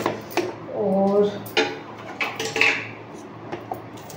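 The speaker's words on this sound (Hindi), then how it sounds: "तो एक कटोरी में मैं सारे मसाले निकाल ले रही हूँ।" Spices such as Kashmiri red chilli, turmeric and salt being gathered into a small bowl in a home kitchen, with light clinks of a spoon against metal and brief scraping, a few soft taps, fairly close.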